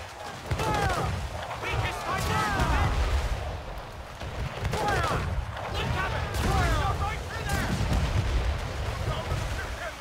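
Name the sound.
ship cannons firing at fort in Assassin's Creed 4 video game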